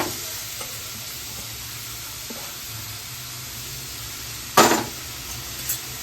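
Grated carrots cooking in ghee in a pan for carrot halwa, a soft continuous sizzle with a sharper hiss and clatter burst near the end.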